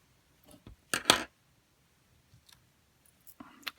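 Scissors cut fabric for doll underwear in a few short, crisp snips, one louder snip near the start and fainter clicks after it, close up in a quiet room.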